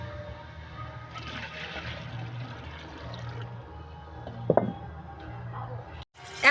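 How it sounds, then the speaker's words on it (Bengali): Water is poured into a cooking pot for biryani rice on a clay stove, a steady splashing stream lasting a couple of seconds, followed by a brief clatter and a sharp knock at the end. "রাইসের জন্য এখানে জল দিয়ে দেব"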